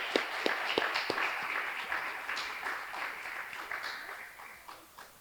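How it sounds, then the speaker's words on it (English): Audience at an adult learning graduation ceremony claps steadily for the staff, a moderate wash of applause with a few sharp hand claps near the start, fading slightly toward the end. "I would love it if we could have a big round of applause for our staff up here"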